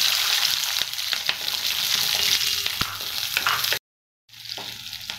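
Small onions sautéing in hot oil in a pan for an onion garlic chutney, a dense continuous sizzle with occasional stirring knocks, close and loud, interrupted by a short gap of silence.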